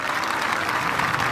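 A crowd of schoolboys at a high school event claps in a dense, continuous burst of applause, loud and even across the whole moment, with no voices standing out.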